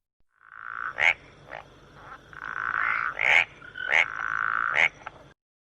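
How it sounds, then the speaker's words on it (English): A frog croaking in a string of loud, close, rasping calls, several sharp accented croaks within a buzzing trill, heard alone against a quiet background. "Frog."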